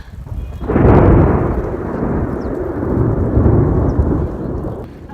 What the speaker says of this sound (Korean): 천둥 소리.